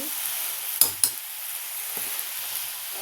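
Onions, tomato, chili powder and turmeric sizzle in oil in a pan for an eggplant kara kuzhambu, with a constant hiss broken by two quick spoon scrapes and a few softer stirring knocks.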